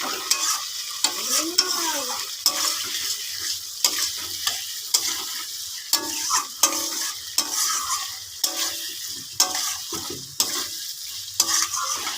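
Masala being stir-fried (kosha) in a pan, rhythmic scraping and clanking of a spoon against the metal over a bright, continuous sizzle, close by with no voices.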